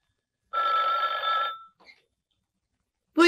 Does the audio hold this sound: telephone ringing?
yes